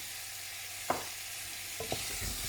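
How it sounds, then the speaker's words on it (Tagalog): Faint, steady sizzle of chicken frying in a pan, with a couple of soft clinks or stirs against the pan, no talking. "Prito lang muna."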